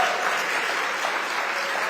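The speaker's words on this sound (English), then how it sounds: "Don't clap too hard." Steady applause from a large audience at a live talk event, dense continuous clapping filling the whole stretch with no voices on top.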